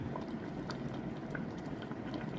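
Vegetables boiling in a pot, a steady bubbling and simmering that stays even and close throughout, with no voices over it.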